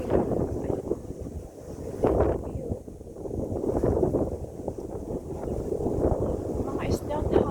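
Wind buffeting the microphone at a sunny mountain viewing area, a loud, continuous rumbling gusty roar that rises and falls for several seconds.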